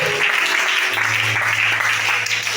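A church congregation claps through a Sunday service in Libreville, Gabon, the applause a dense, steady wash that fills the room, with a low held tone rising beneath it partway through.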